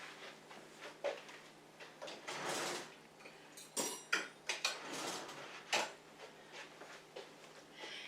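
A kitchen drawer slides open and cutlery clinks as a fork is fetched, a handful of quiet clattering and sliding sounds in a home kitchen, no talking.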